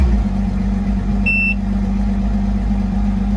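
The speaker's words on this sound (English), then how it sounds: "when we start the engine" An Evinrude E-TEC outboard engine on a Stratos 294XL boat idles with a steady low rumble throughout, and a short electronic beep sounds briefly near the middle.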